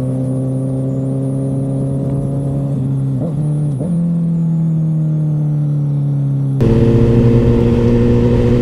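A motorcycle engine idles in a steady low hum, then blips its revs twice in quick succession during a rev-matched downshift before settling and rising again into a louder, rougher drone.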